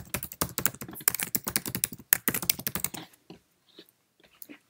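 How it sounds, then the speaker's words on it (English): Rapid clicking of a computer keyboard as a caption is typed on a Mac, an even burst of keystrokes that stops after about three seconds, leaving a few scattered taps. "Let's now type a caption."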